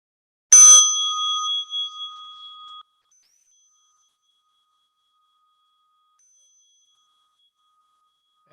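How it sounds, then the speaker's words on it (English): A single bell for mindfulness practice is struck once, ringing out clearly with a bright, pure tone that decays slowly over about two seconds into silence. "As you listen to the bell,"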